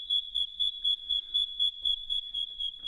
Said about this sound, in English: It's worth it just for the cricket sound.